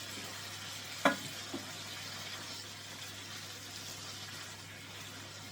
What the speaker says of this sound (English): it's sizzling away in the pan.